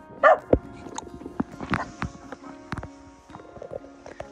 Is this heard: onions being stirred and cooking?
no